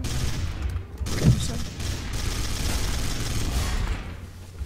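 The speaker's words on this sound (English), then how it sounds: "Ow, I'm getting shot." Sustained video game gunfire fills the scene, a dense fusillade of rapid shots with a louder burst near the start, continuous and fairly close throughout.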